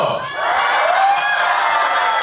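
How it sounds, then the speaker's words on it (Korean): A cinema audience at a film stage greeting for Veteran 2 shouts and cheers together, a loud, sustained swell of high-pitched voices and whoops lasting a couple of seconds. "크게 한번 소리 쳐주세요."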